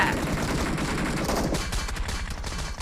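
Gunfire in PUBG Mobile on the Erangel map: dense, continuous bursts of rapid shots fill the opening half, then thin out into sparser, slightly fainter shots, with no talk over it.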